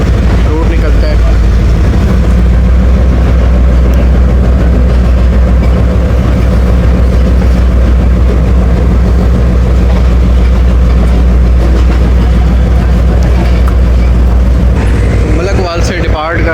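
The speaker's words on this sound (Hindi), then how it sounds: "मलकवाल से डिपार्ट कर रही है हमारी 2 डाउन शटल ट्रेन" Pakistan Railways 2 Down Shuttle train departing Malakwal station, a steady low engine rumble and rolling rail noise throughout, loud and continuous, with a brief rise in higher-pitched sound near the end.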